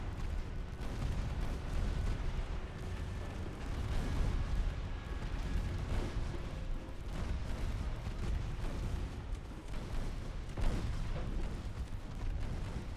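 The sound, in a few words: torpedo launch and naval gunfire in Ultimate Admiral: Dreadnoughts video game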